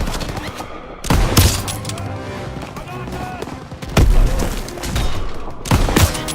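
Battle gunfire from the World War II shooter Call of Duty WWII: bursts of rifle and machine-gun fire with heavy booming impacts come in waves, loud and close, mixed with game sound.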